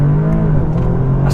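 An Audi S3 launching hard from a standstill, its engine droning loud and close with a steady rising note that holds for the whole brief burst, without a voice over it.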